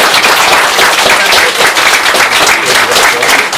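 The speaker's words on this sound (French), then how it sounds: "Vous pouvez applaudir." Guests at a French civil wedding ceremony in a town hall burst into loud, dense applause that stays strong and even throughout, with a few voices mixed in.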